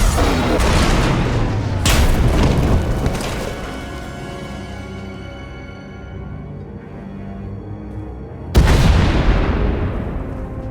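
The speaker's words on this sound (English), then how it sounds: "We heard explosions." Heavy booming explosions in the video game Star Wars: The Old Republic, loud and close, with a sharp blast early on, a long rumbling decay as a tunnel collapses, and another sudden loud detonation near the end.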